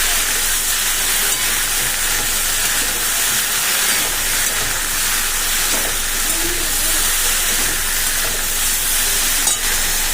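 Cauliflower and potatoes fry in a hot pan, with a steady loud hiss and sizzle running throughout and a few faint clinks.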